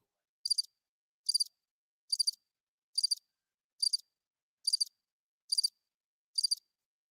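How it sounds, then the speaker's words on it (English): Crickets chirp in eight evenly spaced bursts against dead silence, each a quick trilling pulse. "Crickets. That's all we hear."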